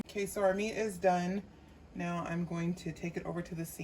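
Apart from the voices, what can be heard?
None of the usual background noises is heard.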